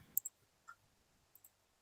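Computer keyboard being typed on: a handful of sparse, light key clicks in quick pairs, close but quiet, with no talking.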